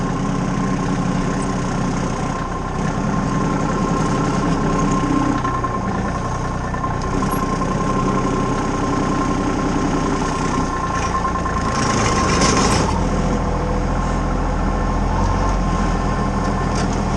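An engine idles at low RPM in a continuous, even drone with a faint steady whine on top, holding the same level throughout with no speech.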